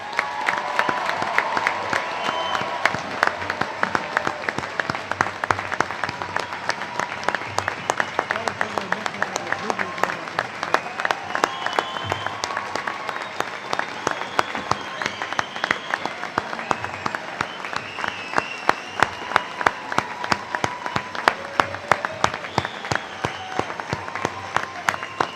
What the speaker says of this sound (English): please join me in giving all our graduates a well-deserved round of applause